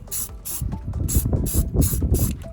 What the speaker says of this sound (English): I have been fiddle farting around with rattle can spray paint for a great many years